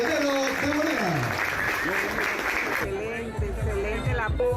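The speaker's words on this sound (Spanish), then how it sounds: "Fuerte el aplauso para la profesora Telvina Medianero de Morena" A crowd applauds for a teacher at a public event, the clapping blended with loud speech and crowd babble throughout before it thins out partway through.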